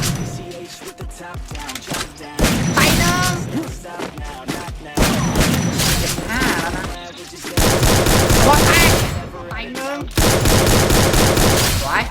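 Rapid gunfire bursts from Free Fire mobile battle royale combat, loud and close, with repeated fusillades separated by brief gaps.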